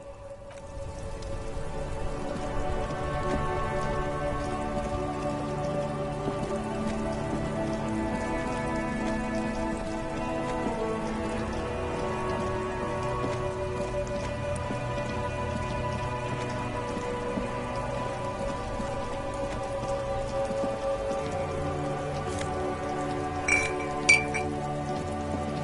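Steady rain falling and pattering on a car during a traffic jam, a continuous even wash of drops with occasional brighter clinks near the end, no voices.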